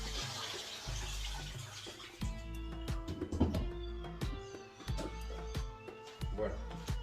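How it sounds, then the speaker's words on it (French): Soaking water is poured off sliced potatoes and carrots in a kitchen, a splashing, gurgling drain with knocks and clatter of the container, with a voice speaking over parts of it. "Là, je vais vider l'eau parce que j'ai mis de l'eau pour pas qu'elles jaunissent en attendant."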